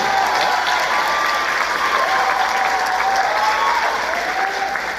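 Sustained audience applause for the Pattonville band at a concert, a large crowd clapping loudly and evenly throughout, with faint whistles or cheers mixed in.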